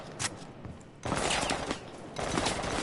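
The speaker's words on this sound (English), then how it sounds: "This silenced Beretta Taurus is weak sauce." Sharp gunfire from a silenced Beretta Taurus in Rainbow Six Siege, with a quieter early stretch of shots followed by two louder bursts of rapid semi-auto firing and clattering action.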